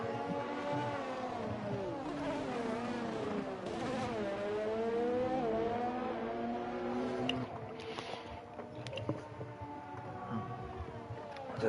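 Loud, constant race-car engine whine from a racing video game on a hot lap on soft tyres, rising and falling in pitch through gear changes and corners, filling the clip with no talk over it.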